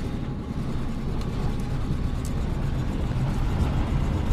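A 1951 Ford Custom with a three-on-the-tree manual gearbox drives down a road, its low engine and road rumble steady and continuous from the cabin, with no talking.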